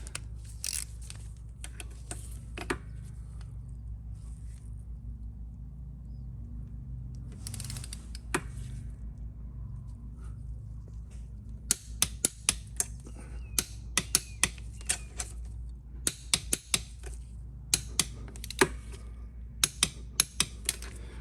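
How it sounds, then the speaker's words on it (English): A torque wrench set to 36 foot-pounds tightens cylinder bolts on a Honda XR650L engine during a rebuild, giving sharp isolated clicks and scattered clusters of clicks over a steady low hum in a workshop. "I'm going to grab my torque wrench, set it to 36 foot-pounds, and then torque all those down"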